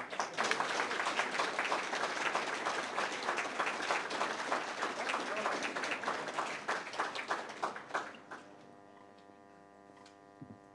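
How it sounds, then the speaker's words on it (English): An audience applauds for a guest speaker at an event, steady dense clapping that thins and fades out near the end, leaving only a faint electrical hum. "That's the applause."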